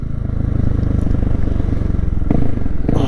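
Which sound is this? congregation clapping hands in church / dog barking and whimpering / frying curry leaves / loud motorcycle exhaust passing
loud motorcycle exhaust passing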